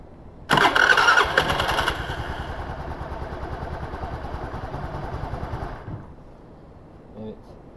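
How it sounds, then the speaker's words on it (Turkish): A Honda Spacy 110 scooter engine, freshly fitted with a new variator, cranks and fires up with a loud burst, then runs in a steady rapid putter for several seconds before cutting off abruptly. "Son kez bir marşa basalım."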